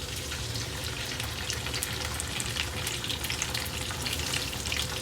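Mantis shrimp sautéing in a pan, a steady close sizzle and crackle of frying with no pauses, occasional stirring scrapes and sputters over the hot oil.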